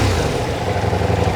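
A Ducati Diavel V4 muscle cruiser with a V-four engine and four exhaust outlets gives a loud, steady, deep rumble that churns without a break for the whole stretch, with no talking.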